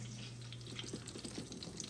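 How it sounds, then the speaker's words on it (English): Chicken strips fry in a pan with a faint, steady sizzle and light crackling pops, heard quietly and close with no talking. "I'm frying some chicken strips"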